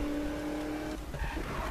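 Car engine and tire squeal while drifting in Need for Speed 2016, a steady close engine drone with tonal whine, then a rougher skidding texture in the second half.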